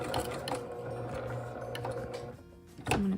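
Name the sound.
sewing machine stitching a mitered quilt corner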